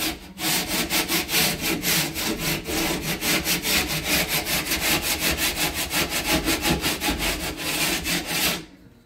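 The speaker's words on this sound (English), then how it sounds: "This is a drywall rasp, okay? You use it to shave sheetrock. It just sands it down" A handheld drywall rasp shaves the edge of a sheetrock panel in quick, steady back-and-forth strokes. The rough scraping is close and loud, runs for about eight and a half seconds, then stops.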